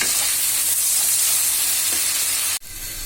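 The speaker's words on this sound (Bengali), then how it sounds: "কিছুক্ষণ নাড়াই।" Garlic paste frying in a pan for a shrimp curry with kochu loti, a loud continuous sizzle and hiss that cuts off abruptly near the end, then resumes more quietly.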